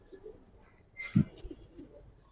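A Giribaz pigeon gives a short, soft coo in the middle of an otherwise quiet stretch, close by and alone.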